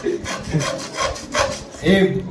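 A hand saw rasps back and forth through wood in repeated strokes, close by, with a brief hum of voice near the end.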